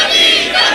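A crowd at a religious meeting shouting a slogan in unison, a short loud burst of massed voices.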